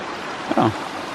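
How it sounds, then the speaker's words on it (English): A stream tumbling over a series of little waterfalls in a wet, mossy forest gives a steady, even rushing hiss throughout, briefly overlaid midway by a short tonal sound. "Well, it's just a series of little waterfalls is all it is."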